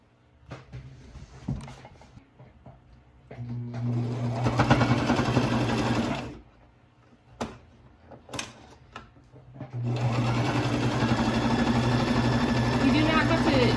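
A sewing machine stitches a cloth mask with a close, steady whirring hum, running in bursts separated by short pauses and clicks, while someone talks over parts of it.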